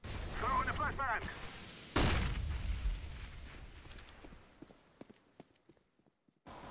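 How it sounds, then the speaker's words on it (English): A flashbang grenade detonates in Counter-Strike, a sharp, loud broadband bang about two seconds in that fades into a long tail. A brief voice comes before it, and faint clicks and footsteps follow. "Throw in the flashbang!"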